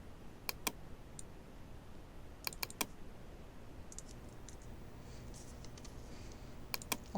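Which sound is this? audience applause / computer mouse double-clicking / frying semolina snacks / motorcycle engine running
computer mouse double-clicking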